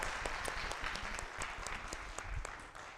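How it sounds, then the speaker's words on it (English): Audience at an improv comedy show applauding steadily, dense clapping from a crowd filling the room throughout. "Everybody give McKay a round of applause"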